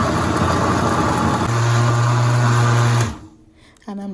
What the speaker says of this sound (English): I'm just going to puree this until, I don't like mine too smooth